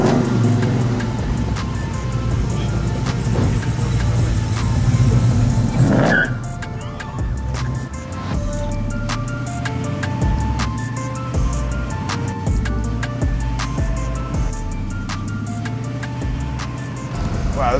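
A custom 800-horsepower twin-turbo Chevelle SS on 22-inch wheels drives along, its engine droning loudly and continuously from inside the car, with rising and falling revs and a sharp shift in tone partway through.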